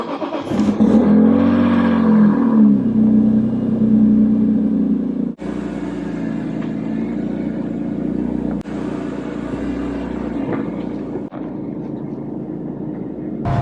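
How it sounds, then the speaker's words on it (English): A BMW E46 M3 drives on the road after a differential rebuild, its engine and drivetrain holding a loud, steady droning rumble with a faint whine, heard from inside the car with shifts in pitch as it accelerates and slows. "now that I've been driving the car, and it's definitely still howling a little bit"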